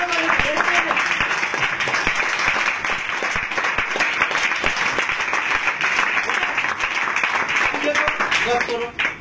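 A church congregation claps steadily and loudly throughout, a dense continuous patter of many hands, while a preacher's voice speaks over it.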